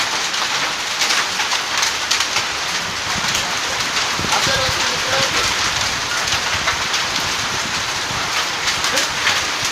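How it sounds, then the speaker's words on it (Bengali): Steady rain hisses throughout, a dense broadband wash with faint voices and scattered knocks underneath. "এইখান থেকে আসছে এখন বৃষ্টি।"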